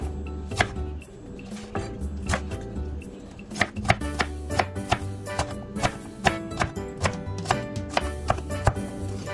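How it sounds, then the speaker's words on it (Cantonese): Knife chopping the white part of a leek into small dice on a board, a steady run of sharp close taps with a few pauses, no talk. "細白色嗰啲部分咧就係切到佢咁樣粒粒"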